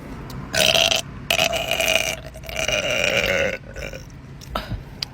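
A person burps on command several times in a row, producing long, loud, droning belches with short gaps between them, close to the microphone and with no talking.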